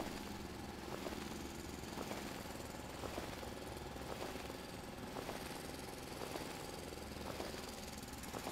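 A drill bores through stone in the video game Foundry, a continuous grinding drone with regular hammering pulses roughly every second, steady and unbroken.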